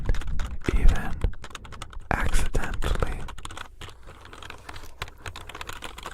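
A computer keyboard is tapped in quick, irregular clusters of soft clicks, close and crisp, with a quiet whispered word in the middle.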